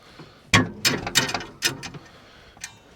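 A hood release lever flipped on a Case 580SK backhoe gives a quick series of sharp metallic clicks and clunks, close and fairly loud, ending with a faint final tick, with no talking.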